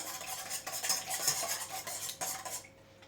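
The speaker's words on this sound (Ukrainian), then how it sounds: "Розіб'ю яйце. І так три штуки. Перемішуємо." Three cracked eggs are whisked in a bowl with a utensil, a quick rhythmic clinking and scraping that speeds up and then stops abruptly near the end, close and alone with no talk.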